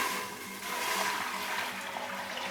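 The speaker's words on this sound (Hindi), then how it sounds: "3 गिलास पानी शामिल करती हैं" Water is poured into a cooking pot for beef hareesa, a continuous splashing gush that runs steadily for a few seconds at moderate loudness.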